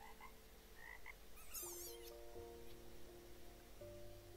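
Frogs croak at a swampy pond beside a camp in a video game, several short warbling calls over a soft ambient bed with faint game music tones.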